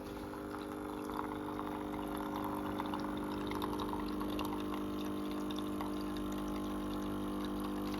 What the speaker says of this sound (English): press the button, and now we're going to get cold water.